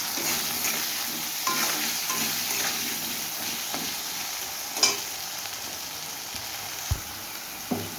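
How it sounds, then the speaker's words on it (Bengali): Potato pieces fry in hot oil in a pan, with a continuous close sizzle and occasional scraping knocks of the spatula as they are stirred. "বন্ধুরা আলুটা ভাজা হয়ে গেছে"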